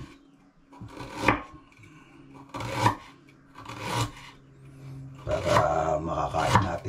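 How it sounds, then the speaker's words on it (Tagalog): A knife cuts fresh ginger and garlic with a few separate, close scraping strokes spaced about a second apart, then a denser run of cuts near the end, with no talking. "Itong luya, gayatin natin. Pati bawang,"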